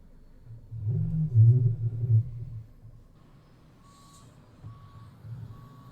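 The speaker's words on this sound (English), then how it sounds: "Of course, I have to turn the truck all around." A truck rumbles as it turns around, then a steady series of reversing beeps sounds at regular intervals, fairly clear over the low engine noise.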